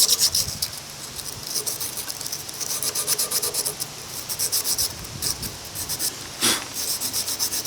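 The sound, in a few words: sanding metal faces with emery paper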